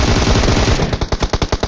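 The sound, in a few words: gunfire in a battle royale video game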